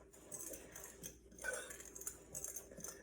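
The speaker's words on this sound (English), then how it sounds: "I'll use a fork to slightly mix this up." A fork stirs oatmeal and flour in a big mixing bowl, giving light, quiet scrapes and clinks of metal against the bowl in an irregular rhythm, close by and soft.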